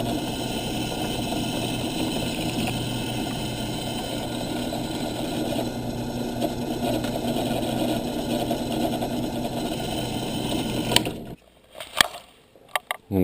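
A drill bores a pilot hole into part of a 1986 Kuwahara BMX bike frame under restoration, a continuous close mechanical whir with a gritty buzz that stops abruptly near the end, followed by a few clicks.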